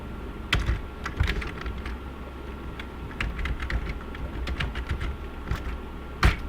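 Keys on a computer keyboard clatter in uneven bursts of rapid taps while entering a database query, close and clear, with a few harder strokes standing out.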